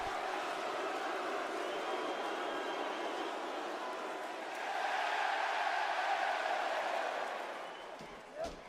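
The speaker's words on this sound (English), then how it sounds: "This crowd is insane" A dense wrestling arena crowd in Belfast roars and cheers, a broad steady wall of noise that swells louder midway, then eases off near the end.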